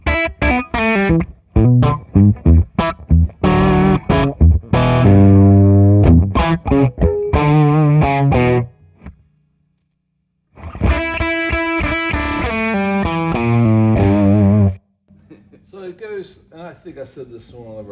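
Electric guitar with heavy distortion played through a Bartel amp, choppy chords and riffs in bursts with a short gap, loud and close, ending with a softer tail of playing and noise.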